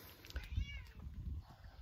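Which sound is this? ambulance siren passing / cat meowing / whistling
cat meowing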